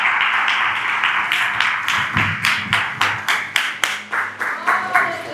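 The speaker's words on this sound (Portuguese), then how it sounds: "Aplaude Jesus essa manhã." A church congregation claps in steady rhythmic unison during a worship service, the sharp, fairly close claps growing stronger and more regular through the passage, with no talk over them.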